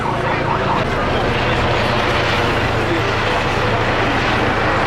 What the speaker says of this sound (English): That's the first time today you've heard a siren